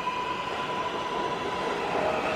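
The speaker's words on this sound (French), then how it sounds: "les portes de la voiture se ferment et le métro reprend à toute vitesse" A Barcelona metro train runs at full speed, giving a steady, loud rumble with a constant whine above it that continues without a break and with no voices.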